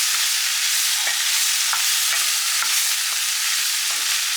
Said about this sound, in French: Pendant que le tofu grille sur feu fort